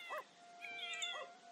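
A stray cat in The Sims meows in a few short, clear calls over a quiet game backdrop, with no talking.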